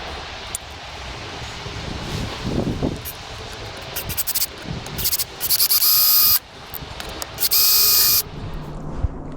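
A power drill drives screws to fix a bracket onto a wood-splitting chopping block, with two long whirring bursts near the end after some handling knocks and light rustling outdoors.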